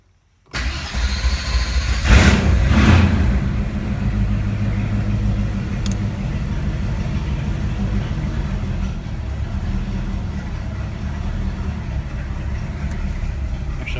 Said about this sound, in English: It's just a boring cold start at this point, but it'd be stupid not to do it